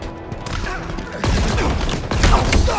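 Rapid bursts of gunfire from a weapon in the shooter game Halo Infinite, with loud overlapping shots that grow denser and heavier toward the end.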